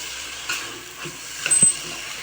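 Lentils and other ingredients hiss and sizzle softly as they are sautéed and stirred in a pan for lentil stew, with a few louder scraping stirs near the end.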